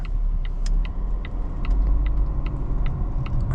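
Volvo V90 Cross Country making a U-turn, heard from inside the cabin as a deep steady engine and road rumble with a series of regular short ticking clicks, like a turn signal, throughout.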